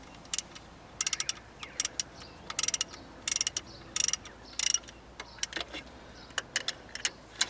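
Ratchet wrench clicking in short bursts while tightening cylinder head bolts on a Toyota Land Cruiser Prado 90 series 1KZ-TE diesel engine, close and sharp with pauses and faint metallic handling between strokes.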